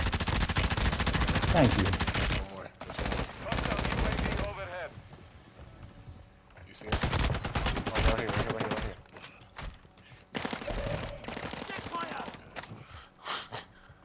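Gunfire in Call of Duty: Modern Warfare II Resurgence duo match, bursts of automatic shots in several loud clusters, with players talking over and between the volleys.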